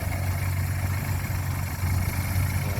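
A 1975 Honda CB200T motorcycle engine idling steadily and close by, a constant low rumble holding even throughout with no voices.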